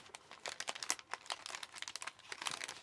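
A paper ephemera pack for junk journaling is handled and opened, producing close, irregular crinkling and rustling with short crisp tears and rattles over about three seconds, quiet and without speech.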